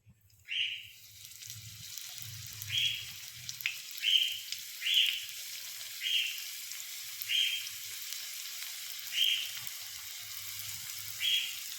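Beef samosas frying in hot oil in a home kitchen, a steady sizzling hiss with repeated brief bright crackles and pops every second or so, close and fairly quiet, with faint low clatter underneath.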